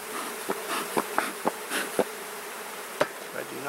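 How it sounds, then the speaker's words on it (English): Honey bees buzz inside an open brood box of a queenless hive with no eggs or brood during an inspection, a loud continuous close hum broken by several sharp taps and knocks of equipment against wood. "these bees are pretty good, but they're definitely a lot louder down here"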